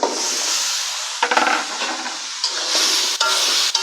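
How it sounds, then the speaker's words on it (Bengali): Masala spices sauté in a pan with a close, steady hiss of frying, broken by a few scraping stirs and knocks, with no voices. "এখন মশলাটাকে ভালো করে কষিয়ে নেব"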